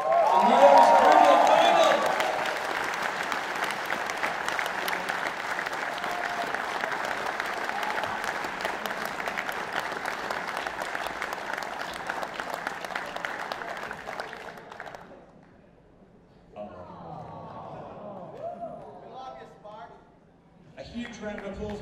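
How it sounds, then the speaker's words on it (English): Dense crowd applause fills a hall at a fursuit dance competition at a furry convention, a long steady roar of clapping with some cheering that fades out near the end, followed by an announcer talking over a PA. "huge round of applause for Stark as well."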